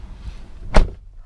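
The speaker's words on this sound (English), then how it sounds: "You can just enter, lock or unlock the doors as you see fit." A car door of a 2015 Nissan Sentra SR shuts with a single sharp, close thud, alone against a quiet background.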